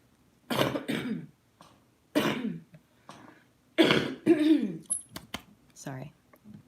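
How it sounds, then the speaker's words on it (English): A person coughs and clears their throat in several short bursts between moments of speech, close and fairly loud, during a live stream. "Sounds like I have a cough, but I really don't."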